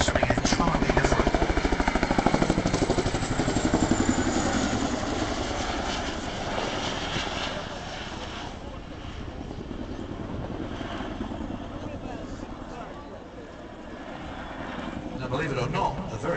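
A Chinook twin-rotor helicopter at an air show sends out a broad, loud rotor and turbine roar that slowly fades and then swells again, with someone talking over it.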